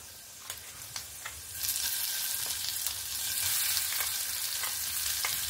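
Green pea paste for kachuri filling fries in hot oil in a pan, giving a close, steady sizzle that swells louder partway through, with a few faint stirring scrapes and no talking.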